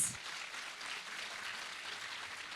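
A festival audience at a literary talk gives soft, distant applause, a faint continuous patter of many hands clapping.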